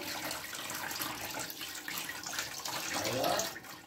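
Boiled chowmein noodles rinsed under cold running water, a steady close splash and gush of tap water over the noodles in a strainer, fairly quiet and continuous.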